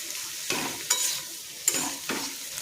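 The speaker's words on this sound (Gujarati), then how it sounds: "હવે આપણે મિક્સ કરી લઈશું બધું" Sweet potato and potato dry curry being stirred in a frying pan, with spoon scrapes coming in several separate strokes over a soft, steady sizzle, close by and without speech.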